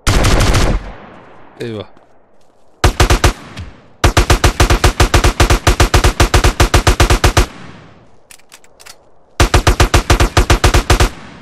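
Automatic gunfire in GTA San Andreas: loud, rapid bursts of evenly spaced shots, several long strings broken by pauses, with a man's brief exclamation in between.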